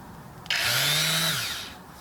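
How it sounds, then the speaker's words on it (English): A Drill Master electric palm sander starts abruptly and runs with a loud, steady buzzing whine for about a second, then winds down and fades out. No one speaks. "what I'm using is a, yeah, you can see it, Drill Master Palm Sander"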